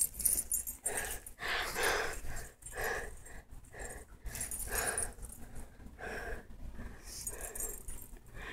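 A dog attacking in the Webkinz video game, a run of repeated panting, wheezing and growling bursts in an uneven rhythm, fairly close and moderately loud, with no talk.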